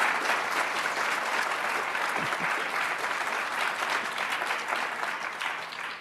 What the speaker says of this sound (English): let's have a great big round of applause for this year's class